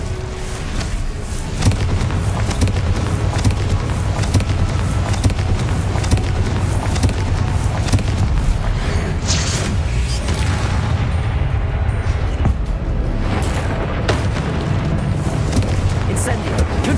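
Explosive spell blasts in the Hogwarts Legacy video game crack out as repeated booming bursts in a dense, continuous mix of game effects and music.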